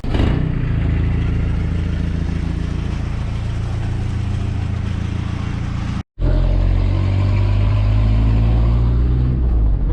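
A car pulls away on a freshly repaired road near a scrapyard, its engine loud and close with steady droning rumble and rattling, continuous apart from a brief cut in the middle.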